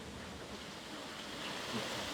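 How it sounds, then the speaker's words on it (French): A pump discharges rainwater into a river in a Bangkok neighbourhood, producing a continuous rushing, surf-like water roar that stays steady and fairly distant with no talk. "ça va être une pompe qui rejette toute la pluie dans la rivière"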